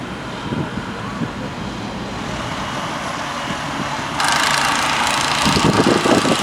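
A crane's diesel engine rumbles and idles as it leaves a SeaWorld Orlando roller coaster construction site, a steady low drone that grows louder and harsher partway through, heard from a moderate distance.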